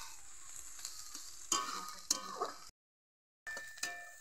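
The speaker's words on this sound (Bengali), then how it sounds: "পেঁয়াজটা লাল লাল করে ভাজা হয়ে গেছে" Onions frying in a pan for a home-cooked meat curry, a steady close sizzle broken by a few sharp stir scrapes and a clink, then a brief silence before the sizzling resumes.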